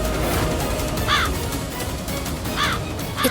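A crow caws late at night, two harsh rasping calls spaced well apart, over a dense, noisy background with no talking.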